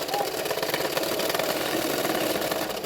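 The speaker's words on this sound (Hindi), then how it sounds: "अभी बेल्ट को इसी तरह से फोल्ड करते हुए और एक सिलाई डाल देना है किनारे किनारे पे" Domestic sewing machine running a steady seam along the folded belt edge of a double katori blouse; a continuous, fairly loud motor whir with an even mechanical rhythm and no talk.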